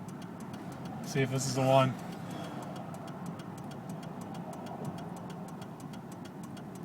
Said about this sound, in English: Got another Athens truck coming by.